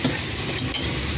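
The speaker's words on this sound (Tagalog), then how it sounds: "pinisa na natin yung karne" Meat being sautéed in a pan for a bone-in meat and white bean dish, a dense, close, steady sizzle with stirring throughout a short moment, no talking.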